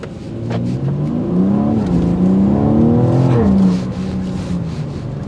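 A 2024 BMW X4 M Competition crossover accelerates hard on a test drive, its engine note climbing loudly through the revs with a gear shift midway, then settling to a steady roar.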